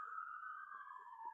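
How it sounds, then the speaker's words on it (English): A siren wails outside in a single sustained, slowly falling tone, faint and distant, heard through a quiet indoor room with no talking. "And maybe I'll wait for the siren to pass"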